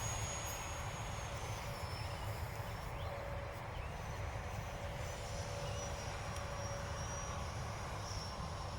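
Electric ducted fan model jet taking off, a steady high whine over a broad rushing roar that holds at an even level throughout, moderately distant with no talk.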